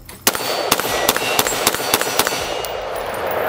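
Rapid shots ring out from a 10.3-inch short-barreled AR-15 rifle, about seven sharp cracks in quick succession with metallic ringing, loud and close, then a fading tail.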